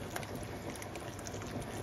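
A pot of water on the stove comes to a rolling boil for angel hair pasta, giving a steady, dense bubbling hiss that stays even and close throughout, with no talking.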